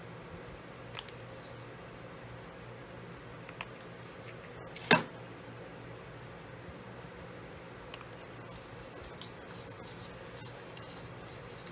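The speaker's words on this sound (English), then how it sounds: "Now what I like to do is snip my corners off." Scissors snip the corners off scored paper for a glitter confetti pop box, a few quiet cuts and one sharper snip in a hushed room.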